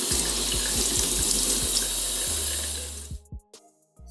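Water runs steadily and loudly from a tap while shampoo is rinsed out of long locs, a continuous rushing flow up close that cuts off abruptly near the end, leaving a few drips and bumps.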